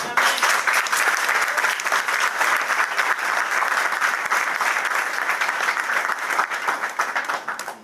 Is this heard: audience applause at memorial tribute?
yes